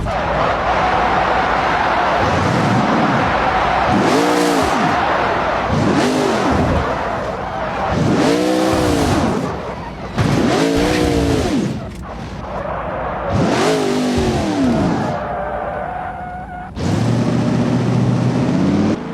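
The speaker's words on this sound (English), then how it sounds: "Ford GT." Ford GT sports car revving hard in a series of about six sharp, rising and falling engine blips, loud and close, with short gaps between them and a final sustained rev.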